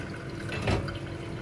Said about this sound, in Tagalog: Lagyan natin ng tubig para isang basong tubig lang.